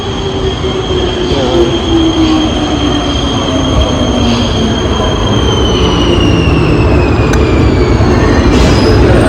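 A metro train in Prague rumbles steadily close by, its wheels whining with long gliding tones and occasional squeals, loud and continuous throughout.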